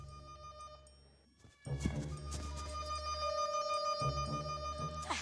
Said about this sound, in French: Il y a quelqu'un qui sonne